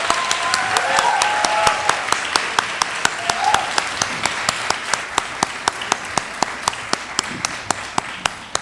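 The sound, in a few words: audience applause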